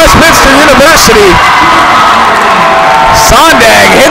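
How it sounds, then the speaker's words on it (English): A women's basketball crowd at Westminster University roaring after a three-pointer ties the game, with loud whoops, shouts and cheering close and dense, while an announcer's voice talks excitedly over the noise. "and the crowd erupts"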